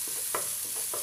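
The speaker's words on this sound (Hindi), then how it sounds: "प्याज लगभग भुनने ही वाली है।" Onions frying in a pan or kadhai while being stirred, with a steady close sizzle and a few brief scraping stirs over about a second.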